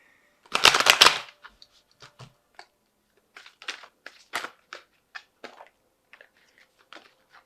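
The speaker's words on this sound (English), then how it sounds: "Let's just give it another shuffle." Tarot cards shuffled by hand at close range: a dense riffling burst near the start, then a run of short, irregular card snaps and slides fading in and out, with no talking.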